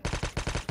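Rapid automatic gunfire from a Call of Duty battle royale match, about eight sharp evenly spaced shots in under a second, loud and close with no talking over it.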